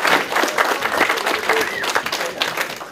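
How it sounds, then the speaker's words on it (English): A crowd applauds at a youth hockey event, the NHLPA Goals & Dreams Cup, with dense, continuous clapping and some voices mixed in, fairly close and loud for the whole stretch. "you guys deserve a huge round of applause"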